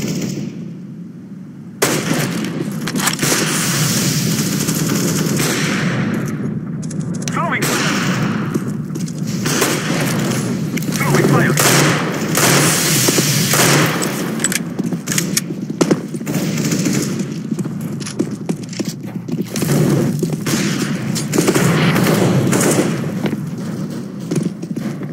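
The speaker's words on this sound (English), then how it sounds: "I'm throwing a flashbang" Gunfire and flashbang bursts from the tactical shooter CS:GO during a competitive round, sounding as dense, continuous crackling shots with sharp booms, loud and sustained throughout with little pause.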